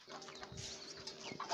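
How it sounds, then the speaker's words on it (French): Chickens kept in a backyard coop beside rabbit hutches cluck and murmur softly at a distance, brief irregular calls over a faint ambient hum. "Voilà, des poulets."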